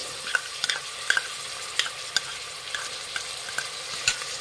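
Chopped carrot, beans and cabbage frying and being stirred in a pan for hotel-style bread pulao, with a steady soft sizzle broken by repeated scraping clinks of a spoon against the pan, close and alone.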